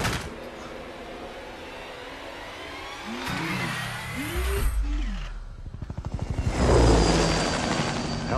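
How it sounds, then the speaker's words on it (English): A helicopter approaching a rooftop in an action scene from the 2014 film RoboCop, its rumble and rotor chop swelling louder toward the end, mixed with other dramatic movie sound effects. "Helicopter's approaching."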